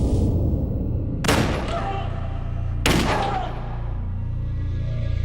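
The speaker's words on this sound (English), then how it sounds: "I don't know anyone who could sleep through a 9mm gun being fired multiple times" Two loud, sharp 9mm handgun shots fired indoors, about a second and a half apart, each with a booming echoing tail over a steady low hum.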